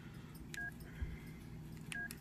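An LG CG225 mobile phone sounds two short, faint keypad dialing tones about a second and a half apart over quiet background hiss.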